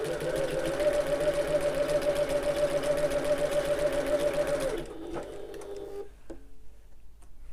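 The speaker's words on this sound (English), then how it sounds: "I'm sewing at 1/8 of an inch or 3 mil away from the edge." A sewing machine runs steadily, top stitching an eighth of an inch from the edge of a wallet piece, a continuous close whirring for about five seconds before stopping, followed by faint handling clicks.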